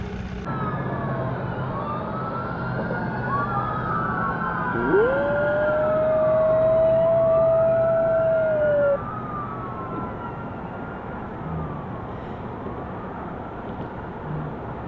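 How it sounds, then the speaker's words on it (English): An ambulance siren wails in the distance on a Florida roadtrip, rising and falling tones drifting across the scene under a constant background hum of traffic and breeze. "anytime like an ambulance, and maybe the occasional police car, but more ambulance comes by"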